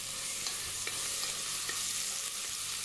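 Garlic paste sautés in a pan as it is mixed. A soft, steady sizzle carries light, periodic stirring taps, all at a fairly quiet level.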